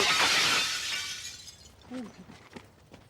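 Window glass shatters loudly at the start in a comedy DIY glazing sketch, with a bright crash that decays over about a second, followed by faint debris and brief voice sounds.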